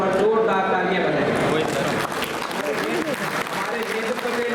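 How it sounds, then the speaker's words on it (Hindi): Crowd clapping at a political rally, continuous applause with voices and a speaker audible over it, fairly loud and sustained. "तो एक बार सभी स्थान पर खड़े होकर जोरदार तालियां बजाएं"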